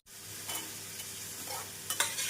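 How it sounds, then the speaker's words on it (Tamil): Onions and garlic sauté in oil in a pan, a soft continuous sizzle broken by a few light stirring scrapes and clinks of the spoon, quiet and close, without speech. "வெங்காயம் 2 நிமிடம் நன்றாக வதங்கவும் பூண்டை சேர்த்து விடலாம்"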